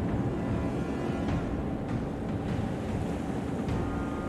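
Ocean water and waves roll in a naval warfare game, a continuous low surging wash with a windy hiss, steady and unbroken, with no voices over it.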